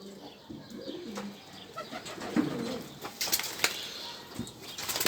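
Racing homer pigeons in a loft coo softly amid wing flaps and rustling, nearby and fairly quiet, with a few light clicks and no talk.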